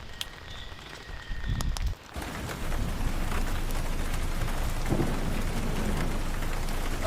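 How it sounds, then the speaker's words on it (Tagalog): Heavy rain pours in a strong monsoon storm at a campsite, a dense, steady roar with thunder rumbling underneath after a brief quieter opening. "Sobrang lakas ng bagyo."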